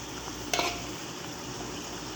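Alamang (shrimp paste) sautéing in a pan, a soft, quiet sizzle with a brief scrape of stirring near the start, no talking.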